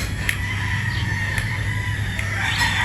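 A Boston Roundhead gamecock crows at a game farm, a drawn-out call that sits over a steady low hum and a constant background of farm noise, with no other voices.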